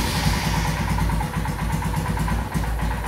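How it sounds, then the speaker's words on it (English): A Royal Enfield Himalayan motorcycle engine, just started, idling unevenly with a close, rapid chugging pulse and slight wavering in speed, with no talking. "Now you can see the bike has started, but the idling is a bit erratic."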